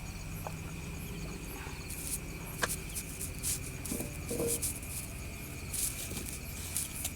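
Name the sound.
crickets chirping outside at night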